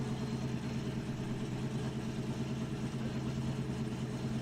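Josh Love's BMW E46 drift car at a Formula Drift event, a steady engine drone that holds at an even level throughout, with no talking.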